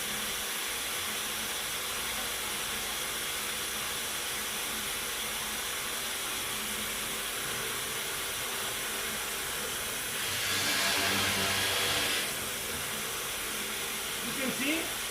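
A dust collector runs on a hinge drill press, giving a steady, loud airy hiss and roar throughout with a brief louder surge near the end.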